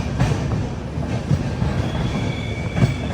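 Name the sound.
Humsafar Express train arriving at Birur Junction station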